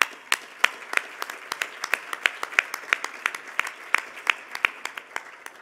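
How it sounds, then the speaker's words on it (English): Scattered, fairly sparse clapping from a gala audience, individual claps standing out in a quick irregular rhythm, moderately close and without talk. "One more round of applause for Lata."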